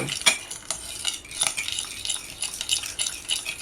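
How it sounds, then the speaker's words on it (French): A spoon stirs coleslaw dressing in a bowl, giving a run of light metallic clinks and scraping taps, close and fairly quiet, with no one talking. "On mélange la sauce"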